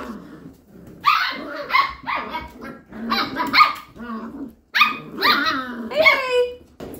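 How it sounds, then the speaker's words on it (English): Goldendoodle puppies barking indoors in a burst of high, yappy barks and whimpers, several overlapping dogs close by in quick irregular volleys with short pauses. "That's a lot of barking."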